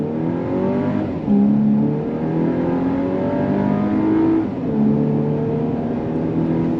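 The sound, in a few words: 2024 VW Atlas Peak Edition SUV accelerating from a dead stop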